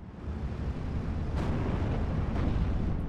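A sustained, rumbling blast in the World War II strategy game Steel Division: Normandy 44, a deep roar with two sharper bursts cutting through midway and near the end, no talking.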